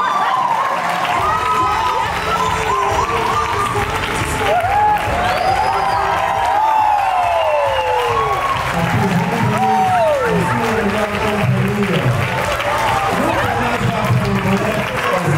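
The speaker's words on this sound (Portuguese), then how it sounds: "Palmas novamente para Rota Coliforme" An audience applauding and cheering at a Christmas party, a continuous dense wash of clapping mixed with crowd noise, whoops and some talking, loud and sustained throughout.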